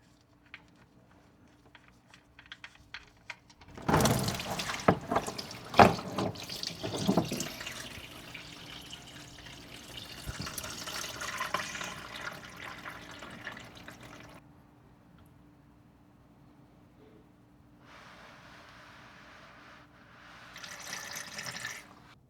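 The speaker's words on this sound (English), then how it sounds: "I can already see the oil starting to drip" Engine oil drains from the oil pan of a sixth-generation Toyota 4Runner, first as a loud splashing gush into a pan and then as a quieter trickle, with a further burst near the end.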